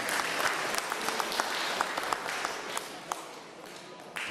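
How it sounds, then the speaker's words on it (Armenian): Steady applause from an audience at the Armenian powerlifting championship, dense clapping that carries on for several seconds. A few claps stand out sharply above the rest. "մեր ծափողությունները"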